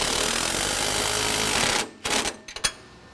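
A power tool tightening sway bar end links on a Tri-Five Chevy gives a close, loud continuous rattling buzz for under two seconds, then stops, followed by a few short sharp bursts.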